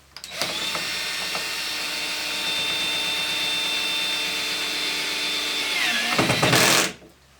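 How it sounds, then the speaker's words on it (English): A cordless drill whines steadily for several seconds, driving a screw into aluminum, then winds down with a brief rattling burst at the end. "Just use your cordless drill"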